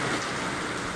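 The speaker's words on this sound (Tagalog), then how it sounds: "ang pagbuhos ng malaking ulan na ito, ng malakas na ulan na may kasamang hangin" Heavy southwest monsoon rain driven by wind pours steadily, a dense, even hiss of downpour close by, continuous through the brief moment with no voices.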